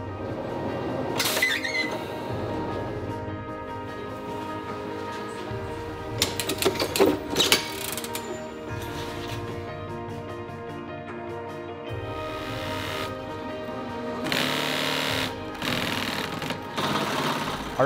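Industrial sewing machine stitching leather bags in a production workshop, with steady humming runs interrupted by brief pauses and bursts of faster mechanical chatter at close range.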